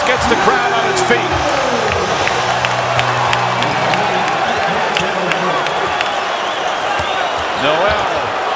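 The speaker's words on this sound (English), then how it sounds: "Kristaps Porzingis gets the crowd on its feet." An NBA arena crowd rises into cheering and applause during a basketball game, a broad roar with sneaker squeaks and ball bounces, under continuous play-by-play commentary.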